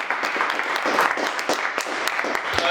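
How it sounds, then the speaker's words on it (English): Meetup audience breaking into a round of applause, a dense, loud wash of many hands clapping continuously with scattered sharper claps standing out. "Before we do that, another round of applause."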